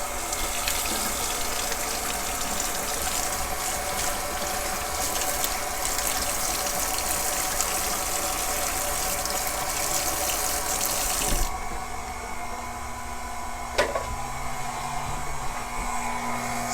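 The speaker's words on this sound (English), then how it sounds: "I get my hands a rinse" A kitchen tap runs steadily into a sink while hands are rinsed, a continuous close gush that drops in level near the end as the flow changes, with a brief clink after.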